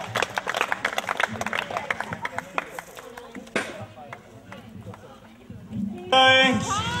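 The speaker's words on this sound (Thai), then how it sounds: "ขอเสียงปรบมือน้องแน่นะครับ" A crowd at a children's day school event claps for a child singer, a run of loose, overlapping handclaps that thins out, followed by a shout and someone speaking over a loudspeaker.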